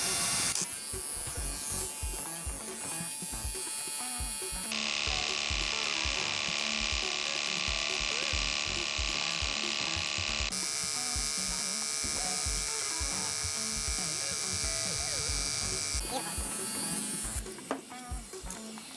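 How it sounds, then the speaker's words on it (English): An electric hair clipper with a wide blade runs with a loud, continuous buzzing whir that shifts in pitch as it engages, with clicks and mechanical rattles near the end. "Turn on your clipper before you engage it"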